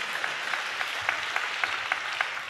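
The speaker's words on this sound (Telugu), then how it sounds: "ఆ ప్రేమ కలిగిన తండ్రికి చప్పట్లు కొడుతూ ఆయనకి స్తోత్రాలు చెప్దాం." A church congregation claps together in a steady, moderately distant patter of applause, continuous for a couple of seconds with no talking over it.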